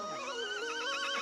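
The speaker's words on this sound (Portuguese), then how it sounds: "Na verdade, é uma égua, né? É uma fêmea" A mare gives a single loud, close neigh, a wavering whinny that rises and trembles for just over a second, heard alone with no talk.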